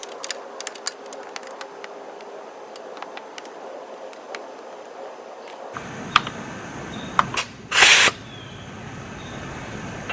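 Compressed air injected into the cylinder of a Briggs 24 hp engine on a Husqvarna mower gives a short, close hiss lasting about half a second, after a few clicks and handling noises.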